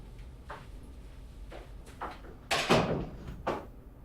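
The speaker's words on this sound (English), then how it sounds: "Close the door." A door is pushed shut with a muffled thud and a rattle, followed by smaller knocks as it settles, close by over a low background hum.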